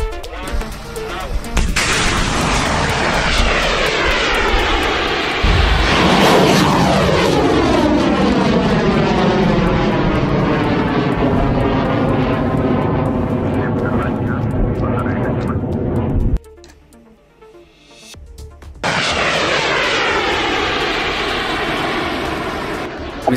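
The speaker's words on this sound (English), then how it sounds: "India test fired a quick reaction surface-to-air missile to successfully hunt down and destroy a pilotless target vehicle off the coast of Odisha's Baleshwar on November 13." A quick reaction surface-to-air missile, a single stage solid propellant rocket, test fired off the coast of Odisha's Baleshwar against a pilotless target: a loud, sustained roaring rush that swells and thins, cuts out briefly, then resumes as a steady roar.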